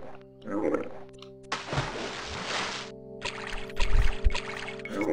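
A river flows in The Elder Scrolls: Arena, making a soft pouring, splashing wash that swells and fades in bursts beneath steady, sustained game music tones.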